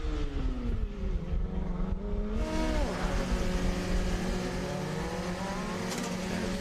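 Clemson University's Formula SAE race car, number 53, runs the skidpad at a Formula SAE event. Its small engine holds a loud, sustained buzzing drone with rising and falling pitch as it circles, and crowd and track noise sit underneath.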